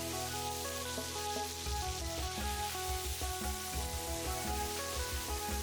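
Rui fish frying with spices in hot oil gives a steady sizzle under a bed of background music, with occasional low stirring thumps.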